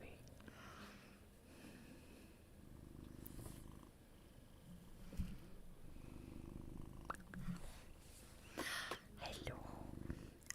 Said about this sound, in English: He's such a happy cat.